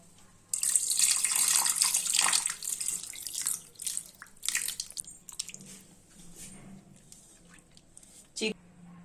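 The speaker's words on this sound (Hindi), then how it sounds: "चिकन को अच्छे से हम धो लेंगे।" Raw chicken pieces, half a kilo of fresh chicken for butter chicken, washed under a running tap in a sink: a loud gush of splashing water that tapers into intermittent trickles and handling noises, with a short burst near the end.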